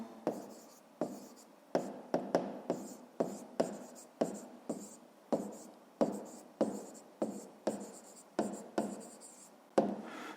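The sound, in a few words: writing down the answer by hand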